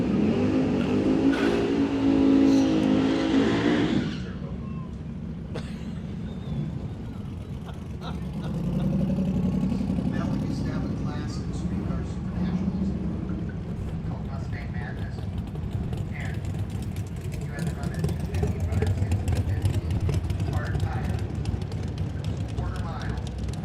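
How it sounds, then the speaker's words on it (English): Turbocharged no-prep drag race cars launch and pass at Ozark Raceway Park, engines roaring loud and then fading, with a rising turbo whine heard from about 400 feet down the track while people talk over it. "you can definitely hear them turbos spooling from up here about 400 foot on"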